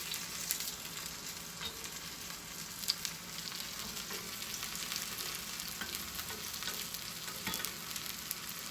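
Green pea and potato tikki patties sizzle steadily in hot oil in a pan, a continuous close crackling hiss with occasional sharper pops and no voices.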